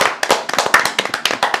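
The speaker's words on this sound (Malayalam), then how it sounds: "അപ്പൊ കിമ്മിനൊരു കൈയടി" An audience claps for Kim at a dance company performance, a quick ragged burst of close, sharp handclaps lasting under two seconds.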